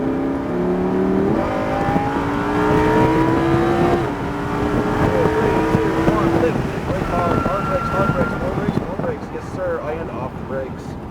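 A Lamborghini Huracan accelerates along a race track straightaway, its engine note climbing in steady rising harmonic sweeps, loud and close amid wind buffeting, with a driving instructor's voice speaking over much of it.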